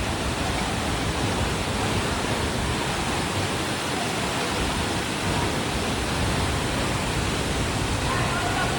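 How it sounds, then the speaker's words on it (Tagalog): Mother Falls, a tall waterfall in Aurora, roars as a steady, loud broadband rush of water, unbroken and constant throughout, with no talking over it. "Yan po yung tinatawag nilang Mother Falls."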